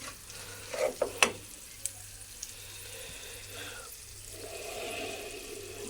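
Rice with vermicelli roasting in a pot gives a soft, steady sizzle and stirring scrape, fairly quiet and close, with a few sharper clinks of a spoon early on.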